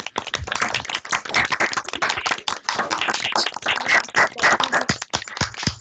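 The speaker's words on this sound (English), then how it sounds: "I don't know if everyone can unmute their mics and give him a little clap" People on a video call clap together over mic, a dense run of overlapping hand claps of uneven rhythm lasting several seconds.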